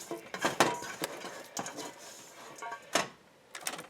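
Raw meatloaf mixture dropped and pressed into a bottomless cake pan form, giving a series of soft thuds and clinks at close range, spaced irregularly with short pauses between.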